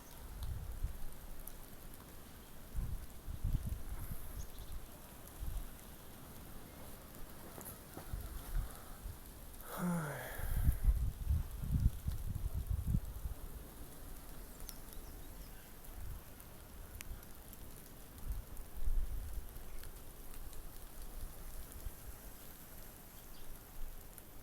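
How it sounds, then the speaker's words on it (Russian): Rain falling on a windy day in Baku, a faint steady patter of drops on surfaces with low gusty rumbles and a brief louder disturbance midway. "Дождь пускается."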